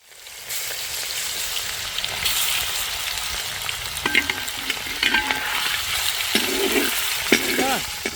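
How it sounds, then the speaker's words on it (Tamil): Masala-marinated seela fish frying in hot cold-pressed groundnut oil, a steady broadband sizzle with scattered pops and a few clinks of utensils, close and fairly loud without talk. "எண்ணெய் நன்றாக காய்ந்து விட்டது மசாலா போட்டது நல்லா ஊறிடுச்சு இப்போ பொறிக்க போகிறோம்"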